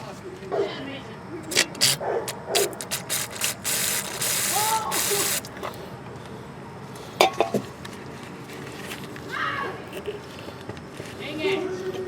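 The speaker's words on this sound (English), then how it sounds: "to do that, I'm just going to use a little electric cleaner" Electrical contact cleaner sprayed onto a wiring connector on a 2001 Pontiac Grand Am, a loud hissing burst of a few seconds set among clicks, handling noises and someone talking.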